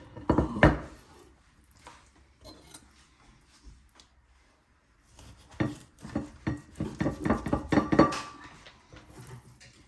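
A knife knocks and scrapes against a cutting board in uneven bursts while cutting salmon, with clinks like kitchenware, after a quiet pause in the middle.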